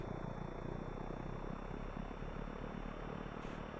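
Steady propeller aircraft engine idling at about 1000 RPM in the X-Plane flight simulator, a continuous low drone with even rumble held throughout, no talking.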